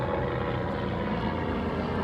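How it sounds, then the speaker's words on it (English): A helicopter passes overhead above an outdoor car park, its steady loud rotor and engine roar filling the whole stretch without a break. "as this helicopter goes over"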